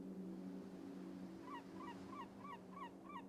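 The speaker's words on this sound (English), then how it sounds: "Can you hear the birds?" Repeated two-note bird calls loop six times at an even pace in a video game's ambient background, sounding faint and distant over a steady low hum.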